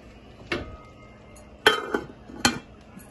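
A metal pot of red beans (rajma) being covered with its lid while cooking: three sharp clanks spaced about a second apart, close and alone over quiet background.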